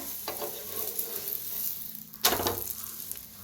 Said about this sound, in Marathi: दोन्ही साईडने असं छान भाजायचं